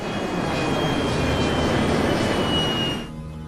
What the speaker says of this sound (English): Captain Waters reduces power on the engine to idle to protect it from damage